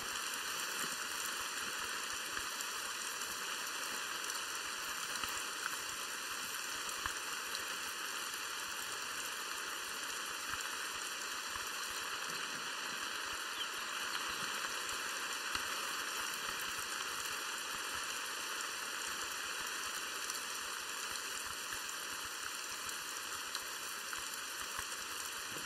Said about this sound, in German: der Regen nervt